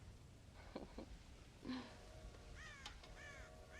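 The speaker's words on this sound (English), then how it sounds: "God damn crows!" Crows cawing near a corn silo in Red Dead Redemption, several harsh, rasping calls in quick succession from a few birds, fairly close over faint ambience.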